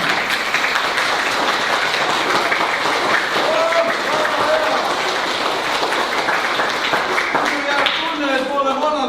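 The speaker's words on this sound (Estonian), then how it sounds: "Mis aplausi selline on?" Sustained applause from a crowd, dense clapping throughout with voices mixed in near the end.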